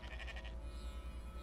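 A goat bleats in a short quavering series of pulses, faint and somewhat distant over a low, steady hum, then fades away, with no talking.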